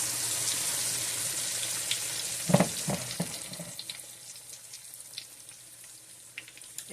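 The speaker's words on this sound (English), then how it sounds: "So my oil is hot, and I got one of my fillets" Kataifi-coated fish fillet frying in hot oil in a skillet, a steady close sizzle with a brief burst of louder crackling and popping as the fillet goes in, then settling back to a softer continuous fry.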